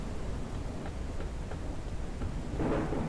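A thunderstorm in the game Forever Skies rumbles as steady low noise of wind and rain, with a brief swell of thunder near the end.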